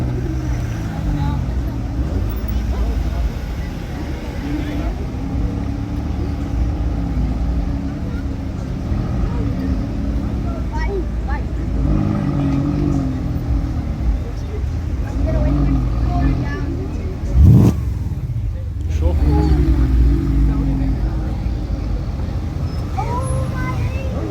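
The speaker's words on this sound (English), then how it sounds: "Sort of a random McLaren pulling through, while the Mustang leaves as well." McLaren and Ford Mustang engines rumbling as the cars drive past at a loud car meet, a continuous low drone under chatter with a sharp louder burst near the end.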